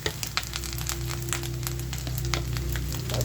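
Whole spices frying in hot oil in a pot as turmeric goes in, a steady close crackle over a low constant hum throughout.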